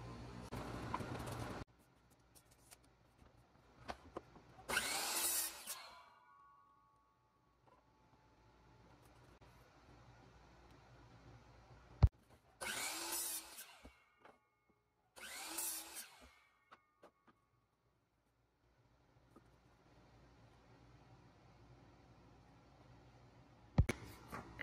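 A power tool cuts a cedar fence picket into birdhouse pieces in several short loud bursts separated by quiet gaps, with faint handling and knocks in between.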